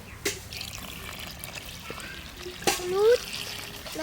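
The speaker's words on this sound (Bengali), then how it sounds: "এবার জল দিয়ে দেবো" Water is poured in as tribal grandmothers make jalebi, a short close trickle and splash rising near the end, with voices murmuring around it.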